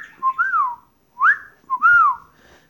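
A person whistles an imitation of a venteveo bird's song: three short rising-and-falling whistled phrases, clear and close, with brief gaps between them and no other sound.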